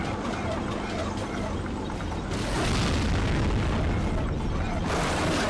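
Dense, continuous weapon fire from a chain gun and cannon in the video game Agent Under Fire, a loud roaring barrage of booms with a heavier surge partway through and no clear talk.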